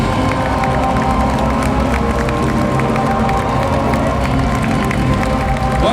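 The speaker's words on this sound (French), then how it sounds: "Applaudissez et saluez avec moi Yoshida." A crowd at a Final Fantasy XIV gaming event in Cologne applauds and cheers steadily throughout, a dense wash of clapping with scattered shouts, loud and continuous.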